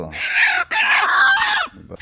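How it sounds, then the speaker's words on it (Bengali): A native deshi rooster clucks at a char village in northern Bangladesh, giving two loud close bursts of rough squawking clucks with a brief pause between them. "হ্যাঁ দেশি মোরগ তো"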